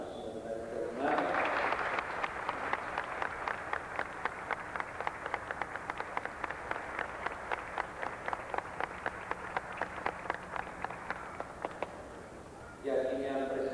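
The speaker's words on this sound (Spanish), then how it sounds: "Le damos un aplauso a este hermano." Congregation applause at a Mass with a bishop, a steady wash of clapping lasting about eleven seconds at moderate level, with a bit of speech at the start and end.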